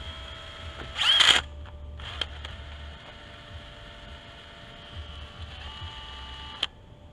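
A brief high whine of an overheating power drill boring through solid PVC bursts out, then a steady electrical hum and faint clicks continue with no talking.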